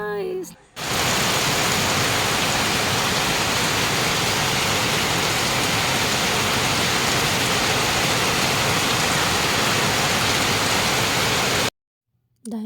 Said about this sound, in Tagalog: Maulan ngayon guys.